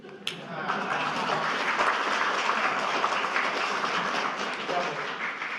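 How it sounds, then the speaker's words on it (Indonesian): Applause from an audience and press at the closing of a PDI-P party national working meeting, a dense steady clapping that starts with a sharp tap and continues evenly throughout, with voices mixed in. "Persnya udah ikut tepuk tangan."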